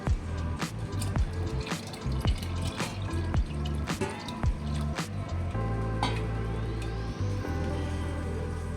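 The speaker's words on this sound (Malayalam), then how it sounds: "കുറുകി വരുമ്പോൾ 2-ാം പാൽ ഒഴിക്കണം" Second coconut milk poured into thickening payasam in a pot, a wet pouring and bubbling sound broken by clanks and stirring knocks, fairly close with no voices.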